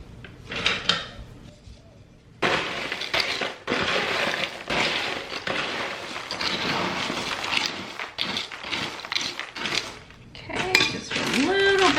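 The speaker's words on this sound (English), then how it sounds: "let me get a spoon" Spoon and cutlery clink and rattle as a drawer is opened and rummaged through in a home kitchen, with dishes knocking, busy clattering through most of the stretch and brighter metallic chinks near the end.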